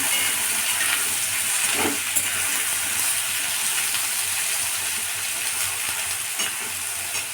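Banana stem sizzling in a pan, a steady broadband hiss of hot oil frying throughout, close and fairly loud with faint stir clinks, no talk.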